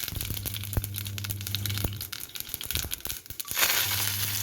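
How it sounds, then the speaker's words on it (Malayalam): A teaspoon of mustard seeds crackles and splutters in hot oil in a pan, a dense close sizzle with sharp pops over a low steady hum. "എണ്ണ ചൂടായി വരുമ്പോൾ അതിലേക്ക് ഒരു ടീസ്പൂൺ കടുക് ഇട്ട് കൊടുക്കുക"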